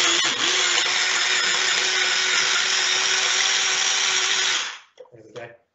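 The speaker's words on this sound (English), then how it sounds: "Little food processor. Mini teeny tiny one for chopping up our food." A mini food processor whizzes bread into breadcrumbs with a loud, steady high-pitched motor whir lasting several seconds, then stops abruptly, followed by a few faint clattering knocks.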